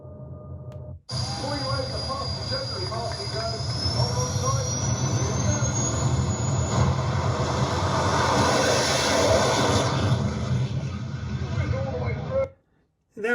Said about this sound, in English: Oh, this is when they were doing jet dragsters.